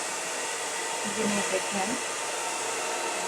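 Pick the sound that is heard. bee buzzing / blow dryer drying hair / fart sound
blow dryer drying hair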